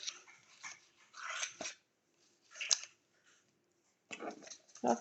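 A dog whimpering and making short scrabbling, snuffling noises near a door mat, wanting to go outside; faint, intermittent bursts separated by quiet gaps.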